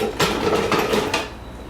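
Peeled potatoes tumble into a Thermomix TM7 bowl, a few quick hollow thuds and knocks in short succession, close and fairly loud, then settling.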